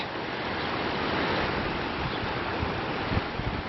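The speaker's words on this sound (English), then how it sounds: "A lot of mud going down the stream." Muddy, turbid flood water rushing down a creek in Calgary during a state of emergency, a steady broadband roar of flowing water, continuous and loud with no pauses or talk.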